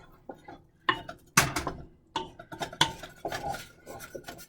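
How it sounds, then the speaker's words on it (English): A wooden spoon or utensil stirs mushroom risotto in a pot on an electric stove, scraping and clinking against the sides in an irregular, busy rhythm of close, fairly loud bursts with no talking. "And stir like my life depends on it"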